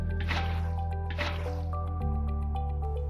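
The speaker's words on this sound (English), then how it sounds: "Using buckets of water, you can then fill the spaces behind these trapdoors with water." Minecraft water buckets emptied behind trapdoors give two wet, splashing pours in quick succession over a steady musical background.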